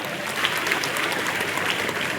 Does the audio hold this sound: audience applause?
yes